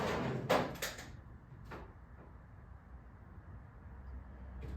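A drawer in a workshop is pulled open during work on a 2009 Police Special, giving a few quick wooden knocks and scrapes up close before things settle into quiet room noise.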